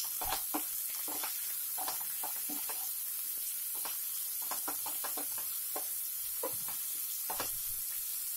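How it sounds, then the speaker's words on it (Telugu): Onions and capsicum fry in a pan with a steady close sizzle, punctuated by frequent spatula scrapes and light knocks against the pan as the vegetables are stirred. "ఆనియన్స్ క్యాప్సికమ్ తొందరగా ఫ్రై అయిపోతుంది కాబట్టి 1-2 మినిట్స్ ఈ విధంగా గోల్డెన్ బ్రౌన్ కలర్ వచ్చే వరకు ఫ్రై చేసుకోండి"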